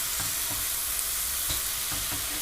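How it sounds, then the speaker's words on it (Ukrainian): A pan of ingredients with a spice mix of mushrooms and herbs sizzles constantly and loudly, while a spoon scrapes and stirs at a few irregular moments. "Дивіться, бачите, злегка якби піджарюється."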